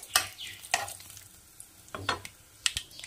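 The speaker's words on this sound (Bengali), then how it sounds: "1 চামচ গোটা জিরা, 2টো তেজপাতা, একটা শুকনো লঙ্কা এবং গোটা গরম মশলা। এই সব কিছু একটু নেড়ে ছেড়ে ভেজে নিতে হবে।" Whole cumin seeds, bay leaves, a dry red chilli and whole garam masala fry in hot oil while being stirred, a soft steady sizzle broken by a few sharp scraping stirs of the spoon.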